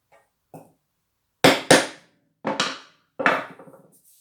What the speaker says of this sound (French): je remets ma cale dessus, je repousse le métal. Il n'y a pas besoin de taper fort, un coup sec surtout.